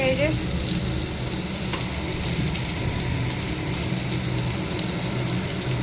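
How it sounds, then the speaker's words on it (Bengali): Cauliflower fries in a pan with a constant, dense sizzle close by, steady throughout with faint stirring under it. "আলুটা ভাজা হয়ে গেছে, এখানে আলু ভেজে রেখেছি, আর এখানে ফুলকপি ভাজছি।"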